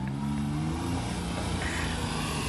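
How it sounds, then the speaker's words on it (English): A mini Japanese truck roars through a wheel-spinning burnout, its engine droning loud and steady with harmonic tones that waver and sag over a hiss of tire scrub, continuous throughout with no talk. "got the wheels burning"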